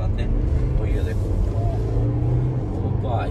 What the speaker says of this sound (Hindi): ये एक बार फिर दोबारा से रेव करते हैं